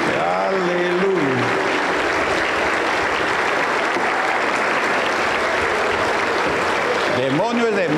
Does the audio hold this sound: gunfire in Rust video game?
no